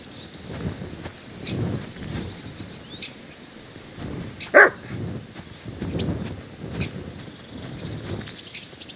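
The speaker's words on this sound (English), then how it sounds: "Barking." Dog barking in Kingdom Come: Deliverance 2, a string of moderately loud barks spaced roughly every second over a low ambient game soundscape, with faint bird chirps and one short sharp call standing out midway.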